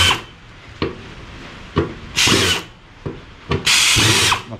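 A power tool tightens bolts on the fuel tank of a Daihatsu Mira Gino L650S, firing in two short, loud whirring bursts between scattered metallic clicks and handling knocks nearby.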